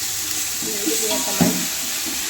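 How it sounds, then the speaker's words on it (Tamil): Ginger, garlic and green chilli paste sautés in a pan with a steady, close sizzling hiss. Faint stirring shifts run under the frying throughout the short stretch. "இந்த பச்சை வாசனை நல்லா வதக்கணும்"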